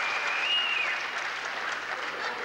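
A crowd at a boxing bout between Keith Haward and King Ben breaks into applause, a dense, steady patter of clapping with a faint whistle rising briefly above it.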